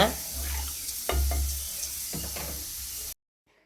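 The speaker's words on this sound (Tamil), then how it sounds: "இது இந்த எண்ணெயில் கொஞ்சம் நல்லா நெய்யிலே வதங்கட்டும்" Masala sizzles and fries in ghee in a pan for paneer gravy, a steady close crackling hiss with a few stirring scrapes, then cuts off abruptly near the end.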